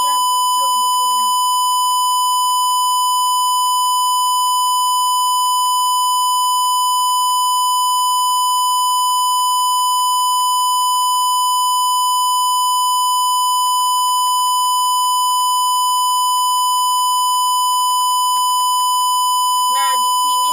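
Steady electronic beeping from an IoT SmartBag prototype alarm, repeating in long runs of short pulses with a pause midway, clear and close over a constant tone.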